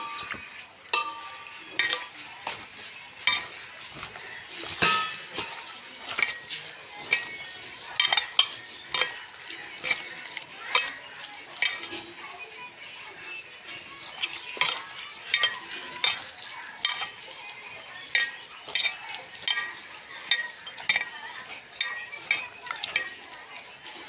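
A spoon repeatedly strikes and scrapes a bowl while besan and rice batter is mixed, making regular clinks about once a second over a quieter wet stirring sound.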